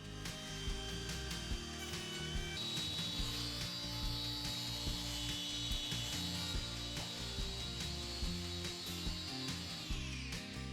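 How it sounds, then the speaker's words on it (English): Wooden beam edges for a barn lean-to are worked down with a power tool, giving a continuous, rhythmic abrasive grinding with repeated scraping strokes, close and steady throughout. "we clean up the edges and sand everything down for a nicer look"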